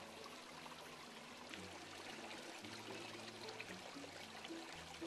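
Water pours and trickles steadily from a garden waterfall and stream in Central Texas in a soft, continuous rush, fairly quiet and with no voices.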